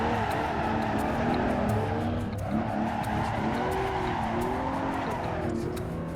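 Porsche tires squealing and sliding on a race track, a loud sustained screech with a shifting pitch over a steady engine drone.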